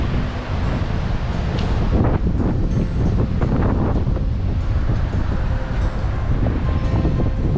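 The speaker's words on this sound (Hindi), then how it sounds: "बहुत तेज़ हवा चल रही है, बहुत ठंडी हवा चल रही है इस टाइम पे।" Strong, cold mountain wind at a dam in Chitkul buffets the microphone with a constant heavy roar and gusty low-frequency rumble, with no talk over it.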